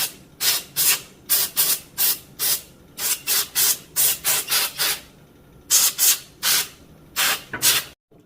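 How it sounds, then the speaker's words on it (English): Compressed air cleaning an electric motor armature from a circa-1898 Thomas Edison bipolar C-frame motor: close, loud short hissing bursts in an irregular rhythm, roughly twenty blasts with brief gaps, no talking. "we're going to hit the armature with just a little bit of compressed air"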